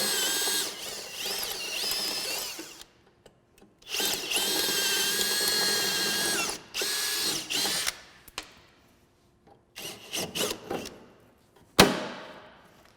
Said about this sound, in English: This is done with a 3/16 drill bit.